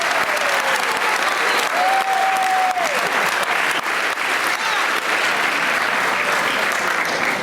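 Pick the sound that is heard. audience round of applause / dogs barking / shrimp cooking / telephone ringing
audience round of applause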